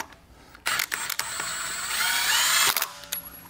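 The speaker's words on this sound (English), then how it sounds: "Putting the lug nuts on with" A mid-torque impact wrench runs lug nuts onto a Tesla Model 3 wheel, with a loud, close, rattling mechanical whir that lasts about two seconds, followed by a few brief clicks.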